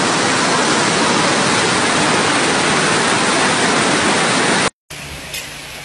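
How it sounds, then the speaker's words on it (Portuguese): Heavy rain flooding streets in Tijuca, Rio de Janeiro, a loud dense rushing roar filling the scene, then an abrupt cut to a quieter, softer background. "Chove, alaga tudo na Tijuca."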